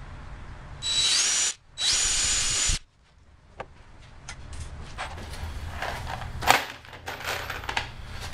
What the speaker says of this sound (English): I'm just going to drill a hole through the riser into the tread